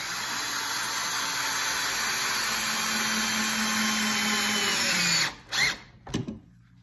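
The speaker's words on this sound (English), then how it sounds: "And we'll start screwing this in." A power drill drives a screw angled down through a log tenon into the mortise of log furniture, a steady loud whine for about five seconds, then stopping with a few short bursts.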